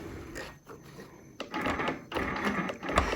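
A sewing machine stitching, its needle mechanism chattering in short, close mechanical bursts separated by brief pauses over about three seconds.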